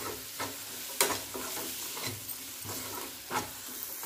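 Spices frying with tomato and peas in hot oil over lowered heat, a steady soft sizzle broken by occasional scraping stirs of a spoon in the pan, close and moderately quiet, with no voices.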